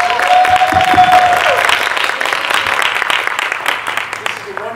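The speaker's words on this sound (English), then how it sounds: "let's give a big round of applause to Dr." Loud, sustained crowd applause at a book signing event honoring Dr. Michele and volunteers, dense clapping continuing throughout with some voices mixed in.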